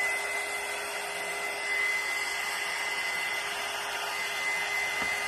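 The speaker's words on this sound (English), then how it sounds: "I'm going to just hit these with the dryer real quick." A hair dryer blows steadily with a constant whirring hiss and a thin whine, close and loud throughout with no talking.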